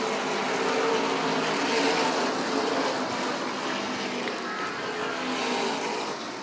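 Tour-type modified race cars at Beech Ridge roar into a corner as a dense pack, a steady loud wash of engine noise holding for several seconds with a slight swell and fade.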